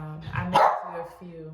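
A pet dog gives a single short bark in the middle of an indoor talk, heard close under a woman's ongoing speech.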